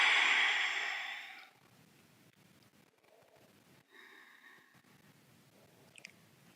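A long, loud breath released during a yoga session, a steady whoosh that fades out over about a second and a half, followed by quiet room tone and a few faint soft noises.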